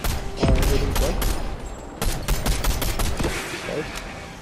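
Fortnite gunfire rattles in close, loud bursts of rapid shots, pausing briefly before another volley, with players' voices mixed in under the shooting.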